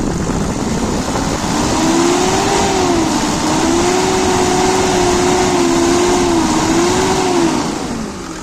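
A Mercedes-Benz C 250 Turbodiesel (W202) five-cylinder diesel engine revs up smoothly, its pitch rising and falling in a few gentle swells before settling, loud and close.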